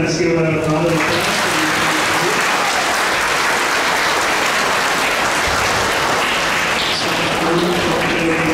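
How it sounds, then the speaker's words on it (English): A room full of listeners applauds after a lecture at an ISKCON temple in Toronto, a loud, dense, continuous round of clapping that swells right after a speaker's voice and holds steady to the end. "Once again, let's give a round of applause."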